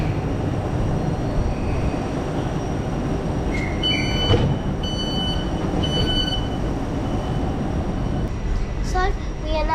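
Inside a moving Southeastern Class 707 City Beam train, a continuous heavy rumble fills the car, broken by high, thin wheel squeals and brief tonal chimes in the middle and near the end.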